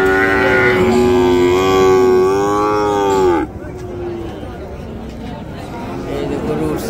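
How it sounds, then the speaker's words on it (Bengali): Cattle at a busy Bangladeshi cattle market, one loud drawn-out moo up close lasting a few seconds, then cut off into general market murmur and voices. "এই যে গরু"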